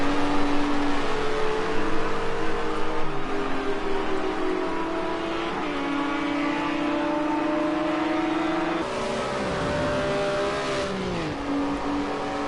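GT4 race car engines drone at Silverstone circuit, a sustained loud hum whose pitch climbs and drops in steps as the cars shift gears down the straight.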